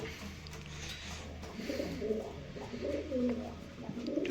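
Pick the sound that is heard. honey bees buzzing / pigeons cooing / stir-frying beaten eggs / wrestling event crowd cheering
pigeons cooing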